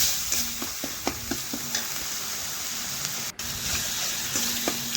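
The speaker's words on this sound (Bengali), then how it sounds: "তেলের মধ্যে দিয়ে আমি একটু নাড়াচাড়া করে একটু মশলাটা ভেজে নিচ্ছি" Spice paste for a rohu fish curry is stirred and fried in oil, a steady sizzle marked by repeated spoon scrapes and taps against the pan, with a brief dropout near the end.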